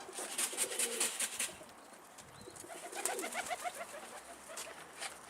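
Pigeons coo nearby in soft repeated throaty calls, with occasional sharp wingbeat flutters and chirps mixed in, moderately close and continuous.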